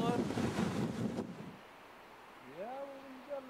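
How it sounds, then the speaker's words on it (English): Strong wind buffets a microphone outdoors in the Klondike wilderness, loud roaring gusts at first that ease off, with a brief rising whine near the end. "So it's pretty windy."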